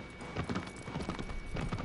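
A horse gallops in the video game Shadow of the Colossus, its hooves pounding in a quick, rhythmic clip-clop that stays steady and fairly close at moderate volume.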